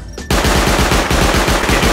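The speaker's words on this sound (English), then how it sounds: "Oh, auto turret!" Automated turret in the Rust survival game unleashing a sustained burst of rapid gunfire, loud and close, starting abruptly after a brief quiet moment and continuing without pause.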